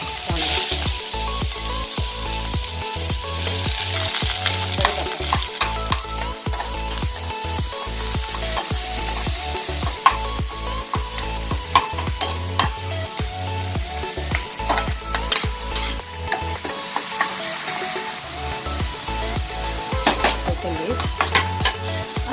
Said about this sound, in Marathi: तर आपण आता फोडणी देऊया।